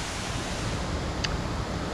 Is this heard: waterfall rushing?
yes